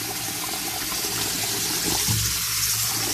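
A strong jet of water runs from a kitchen tap during cooking, a steady loud gushing rush that continues without a break.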